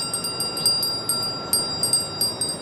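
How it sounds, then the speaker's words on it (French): Snake-charming chime from Life is Strange, ringing as a series of bright, shimmering metallic strikes at a fairly steady pace, each one tailing off over a sustained high tone. "Carillon ophidien. Les serpents qui l'entendent doivent s'endormir."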